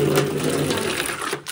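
Spring water sputtering and spurting through a hose at a hillside spring in the Philippines, a fast rattling, pump-like chatter that runs steadily and close, then breaks off briefly near the end.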